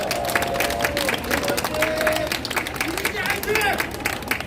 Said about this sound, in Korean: 한번 박수 칩시다.